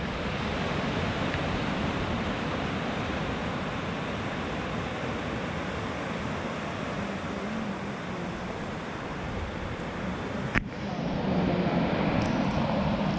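A waterfall roars in a constant dense rush of falling water, loud and unbroken, with a brief knock near the end.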